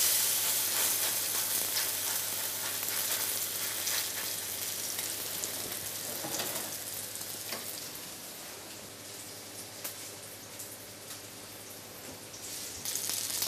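A handful-sized potato-pumpkin fritter fries in a very hot pan, giving a steady, close, dense sizzle that keeps going the whole time, with no voices over it.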